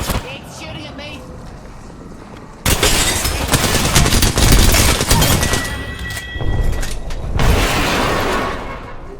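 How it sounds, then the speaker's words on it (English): A shotgun battle in the video game Apex Legends: loud, dense bursts of gunfire and booming blasts fill the mix in two heavy stretches with shorter pauses between them, while a player talks over the action. "It's shooting at me."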